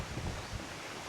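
Wind and surf at a seawall beach resort make a steady, broad rushing wash with no voices over it.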